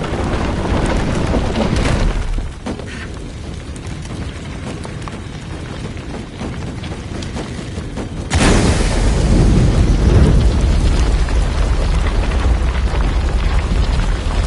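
An explosion in the video game Shadow of the Tomb Raider Definitive Edition raises a platform: a low rumbling backdrop swells into a loud, deep boom partway through, then a heavy roar that holds to the end.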